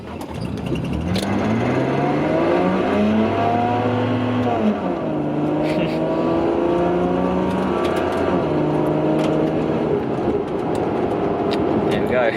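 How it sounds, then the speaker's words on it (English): A car engine revs up during driving, its pitch rising and falling through gear changes as it accelerates, loud and steady, with occasional clicks and cabin noise over it. "I'm going to give it a bit of acceleration."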